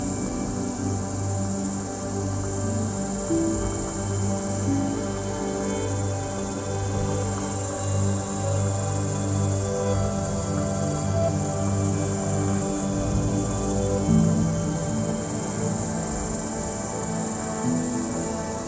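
Cicadas singing in a continuous, droning buzz that holds steady for the whole stretch, with a bright high whine over layered lower tones and no voices.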